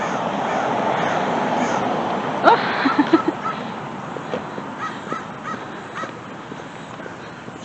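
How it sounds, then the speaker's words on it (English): Several crows caw in short bursts at mid distance over steady outdoor background noise, with a brief loud call cluster early on and scattered fainter calls after; a person says a single word. "few crows over by the Super 1"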